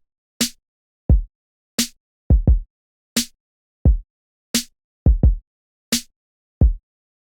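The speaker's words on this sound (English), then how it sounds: "let's go ahead and just add a kick drum pattern" A kick drum pattern programmed on Impact XT pads repeats as punchy, isolated low thumps, with a sharper click between hits and occasional quick doubled kicks, all looping evenly over two bars.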